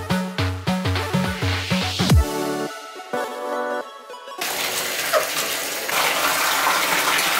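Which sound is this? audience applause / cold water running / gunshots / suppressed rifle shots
cold water running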